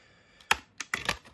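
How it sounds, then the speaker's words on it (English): Clicks and snaps of an SD card being pulled from under the back plate of a New 3DS XL handheld: a sharp snap, then a cluster of quick plastic clicks close by, with no talking. "So just take out the SD card."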